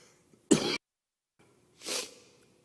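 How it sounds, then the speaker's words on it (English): Two separate coughs, the first sharp and short, the second softer and more drawn out, with quiet pauses around them. "Got a cough."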